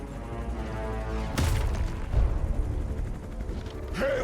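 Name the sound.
explosion in the video game Marvel's Midnight Suns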